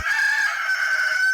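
Loud, close rooster crow, one long sustained call that holds at an even pitch almost to the end, heard alone.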